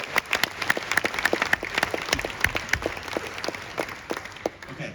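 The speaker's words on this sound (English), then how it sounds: "Give them one more round of applause." An audience applauds at a live event, with a dense patter of clapping hands throughout that stays fairly close and even, a few louder individual claps standing out.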